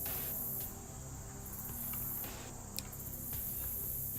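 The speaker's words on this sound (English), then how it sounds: "There's a frog bog." Frog bog swamp ambience from the video game Shadows Over Loathing: a steady, dense chorus of chirring insect- or frog-like trills with a low rumbling bed, faint and continuous, with a few brief clicks.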